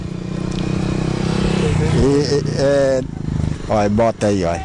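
A motorcycle rides along a park footpath meant for walking, its engine hum running low and steady beneath close, continuous conversation.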